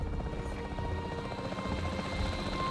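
Helicopter flying in the dinosaur park video game Jurassic World Evolution 3, a steady droning rotor hum that stays loud and constant throughout, with no voices over it.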